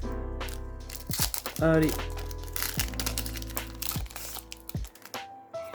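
Pokémon booster pack wrappers torn open by hand, close crinkling and crackling foil with a sharp rip near the start, and a voice speaking briefly.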